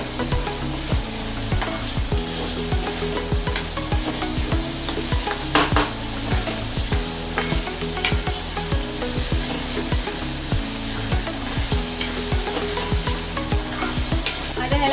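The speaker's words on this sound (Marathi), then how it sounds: "आता त्यामध्ये मी शिमला मिरची टाकणार आहे आणि त्याला पण मी व्यवस्थित आता तेलामध्ये परतून घेते" Capsicum sautés in hot oil in a pan, a continuous loud sizzle with a regular rhythm of stirring scrapes running throughout.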